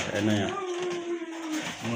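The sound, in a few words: pigeons cooing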